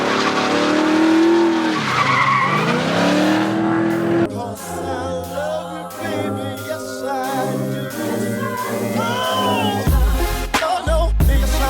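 A car drifting at a grassroots drift event, tires squealing in long wavering screeches over revving engine sound, with a loud close burst of tire noise near the end.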